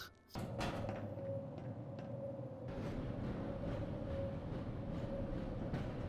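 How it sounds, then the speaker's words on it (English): A train ride in the video game Half-Life gives a steady, loud rumbling drone with a constant hum, cut in near the start by a sharp door-like clank, then carries on unbroken. "No one ever seems to talk about how much train riding you do in this."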